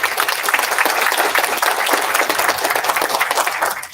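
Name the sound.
audience applause for volunteers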